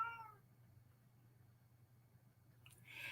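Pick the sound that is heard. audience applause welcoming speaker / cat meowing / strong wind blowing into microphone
cat meowing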